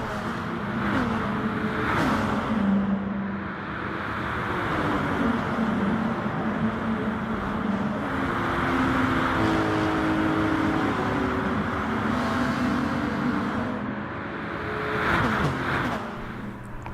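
Race cars in Gran Turismo Sport, including a Ferrari, a Beetle and an Evo, with steady loud engine roar and whine that rises and falls continuously through the clip, no talking.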